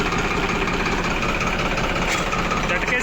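A tractor engine running with the live PTO gear engaged by a jerk of the lever: a loud, steady, close diesel idle with a rough mechanical rumble, continuous throughout, with a voice talking over it.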